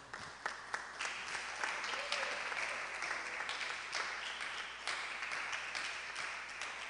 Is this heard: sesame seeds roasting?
no